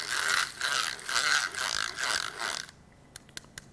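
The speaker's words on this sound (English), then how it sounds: "A mini mixer. This is what you need to mix small amounts of paint." A small handheld mini mixer whirs through Mixol tint and a little white paint in rhythmic pulses at close range, then cuts off, leaving a few light clicks.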